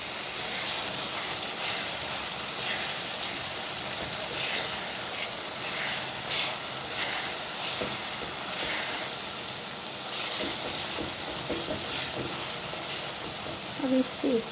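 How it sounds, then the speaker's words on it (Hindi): Onions fry in a pan, with a continuous close sizzle and hiss, occasional stirring scrapes, and a brief clatter near the end. "तो ये प्याज ऑलमोस्ट फ्राई हो रहे हैं हमारे"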